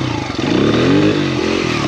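A motorcycle engine revs hard through a second-gear clutch-dump power wheelie, a loud, close, continuous roar with rising and falling pitch sweeps and no talking over it.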